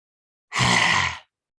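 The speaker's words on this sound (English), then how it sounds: "So lion, so you need your tongue to come out and this rasping sound" A single forceful lion's breath yoga exhale, a loud raspy, breathy blast with the tongue out, lasting under a second and heard alone.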